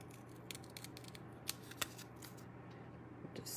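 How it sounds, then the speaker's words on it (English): Paper snips trim around the edge of a stamped card to leave a white border, giving a run of light, crisp snipping clicks with two sharper cuts standing out over a steady low background hum. "Just taking my paper snips, running around the edge, giving it a nice white border."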